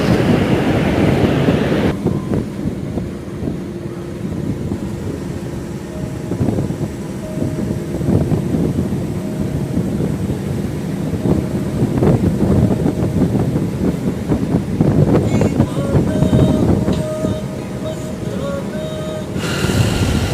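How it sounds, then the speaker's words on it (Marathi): Steady roar of surf and wind on a beach near Udupi, loud and continuous, with waves rolling in against a constant rushing background. "मस्त अशा लाटा तयार होतात"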